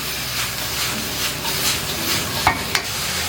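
Vegetables and young ginger stir-fried in a wok over high heat, making a steady close sizzle and hiss with a few sharp clatters of the spatula near the end.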